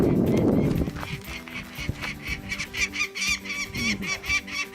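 A bird near an old mine in Nevada, the Silver State Mine, calls repeatedly in short, bright rhythmic notes over wind noise and a brief rumble at the start, fairly close and persistent.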